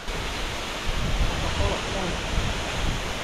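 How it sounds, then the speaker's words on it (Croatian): Heavy cascading water at the Ilomska waterfall on Vlašić in Bosnia and Herzegovina, a loud steady roar with some wind buffeting the microphone and a low rumble swelling midway. "Vodopadi Ilamska."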